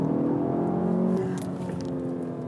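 Audi TT being driven hard through a run of S-bends, its engine holding a steady mid-pitched drone with slight pitch changes, close and continuous with no one speaking.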